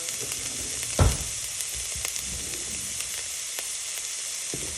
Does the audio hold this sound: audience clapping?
no